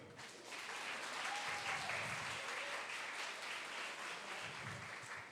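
Women in the audience at a church family conference applaud in a sustained burst that swells quickly and then tapers off, with some speech faintly underneath.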